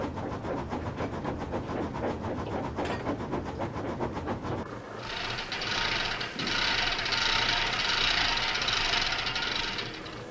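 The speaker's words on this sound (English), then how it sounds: "Is your engine supposed to sound like that, Bertie?" A rhythmic mechanical clatter of a bus engine rattles close by, then gives way to a steadier, louder hissing rumble.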